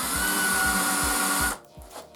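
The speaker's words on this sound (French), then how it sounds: "ma perceuse tourne à l'envers. Et voilà, ça perce très bien." An electric drill running in reverse bores a hole to make a star-shaped sanding disc, whining loudly and steadily with a rhythmic low chatter, then cuts off abruptly, leaving quiet handling noises.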